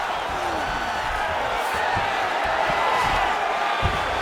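An arena crowd roars and cheers steadily through a UFC 5 mixed martial arts video game bout, a dense continuous wash of noise with a few sharp thuds and commentary voices underneath.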